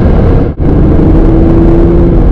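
A car engine on a downshift with a Porsche-like tone, loud and close, a sustained droning roar that briefly drops out and returns with a steady pitched hum.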